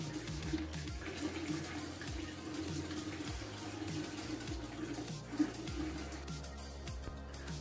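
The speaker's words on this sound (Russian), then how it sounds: "Грязную воду смываем в унитаз" Dirty rinse water poured and flushed down a toilet, running and splashing steadily, with faint clinks and a low rumble underneath.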